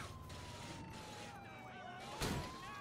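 Police car siren in the video game GTA 4 during a chase, a faint, thin wail that glides slowly in pitch behind game noise, with a brief thump near the end.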